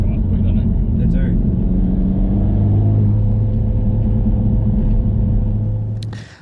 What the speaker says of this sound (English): So that is the drive of the Honda Civic Type R.